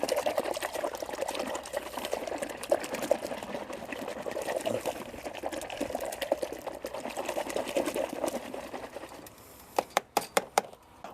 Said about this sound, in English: we're going to get us special mixing brush and get some bubbles in there